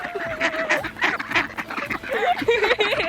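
Ducks quack and honk at close range at Reifel Bird Sanctuary on Westham Island, a busy, overlapping run of calls with quiet chatter from people nearby.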